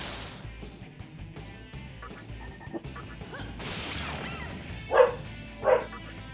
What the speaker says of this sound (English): Yep, that's a dog. It's a puppy at that.